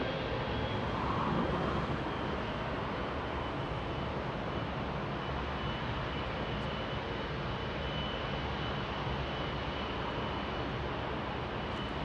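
WestJet jet airliner taking off from runway 24 left at Los Angeles International Airport, a broad steady engine roar at a distance, holding even throughout with no voices.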